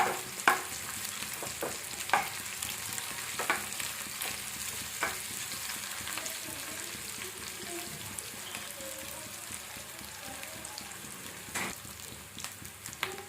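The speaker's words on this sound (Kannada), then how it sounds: "ಫಸ್ಟ್ ಈರುಳ್ಳಿ ಎಲ್ಲ ಚೆನ್ನಾಗಿ ಫ್ರೈ ಆಗಬಿಡಲಿ" Onions frying in a pan for a North Karnataka-style brinjal dish give a soft, steady sizzle broken by sharp scraping stirs every second or two, with no talking.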